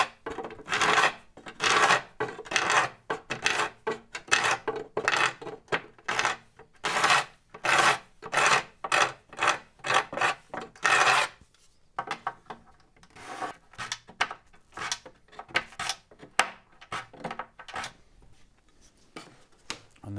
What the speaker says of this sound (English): I'm just going to use my card scrape